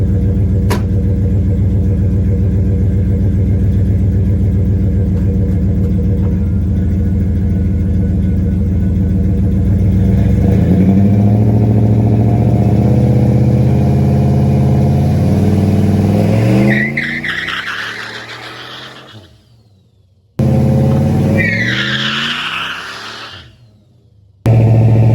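A turbocharged Dodge Diplomat sits idling with a steady low engine drone, then revs up hard in a rising, straining roar during a stall speed test before cutting off abruptly, with a brief restart and another rev at the end.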